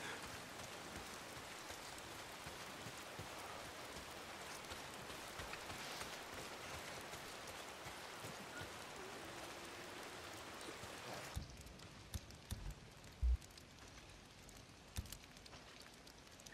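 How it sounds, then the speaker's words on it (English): Rain in the video game Days Gone, a steady dense hiss of falling drops that drops in level partway through, continuing softer with a few sharp ticks and thumps, no voice over it. "If it's not the freaks, it's the goddamn rain. Why is it always raining?"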